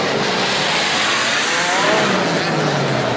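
An off-road race car at an open off-road competition drives off, its engine a loud, continuous close roar that fills the whole moment without a break.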